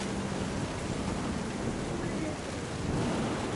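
Steady rain with a low thunder rumble in the game What Remains of Edith Finch, a continuous wash of rainfall heard alone at moderate, even loudness.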